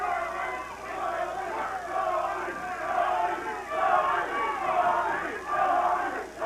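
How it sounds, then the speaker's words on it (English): A wrestling crowd at a 1980s outlaw wrestling event chants "Tommy" for Tommy Rich, a dense, rhythmic roar of many voices rising and falling in repeated waves, with no clear single speaker. "the crowd is picking up the chant of Tommy, Tommy, Tommy, and Tommy Wildfire Rich"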